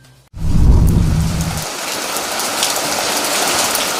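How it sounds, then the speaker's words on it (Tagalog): Heavy rain pours steadily with a roaring, windy wash from Typhoon Florita in Apayao province, Philippines, and a deep low rumble fades out early on. "Ginising ng malakas na ulan at hangin, dala ng bagyong Florita ang probinsya ng Apayao."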